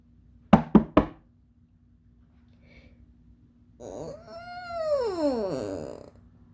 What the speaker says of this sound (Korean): 공주는 다시 한번 두드려 보았습니다